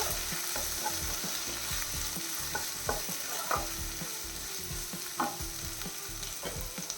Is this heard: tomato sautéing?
yes